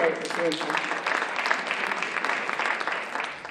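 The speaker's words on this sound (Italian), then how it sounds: "un applauso se volete farlo" Applause from an audience at a CONI Veneto sports merit award ceremony, a steady dense patter of many hands clapping close by, with faint voices mixed in.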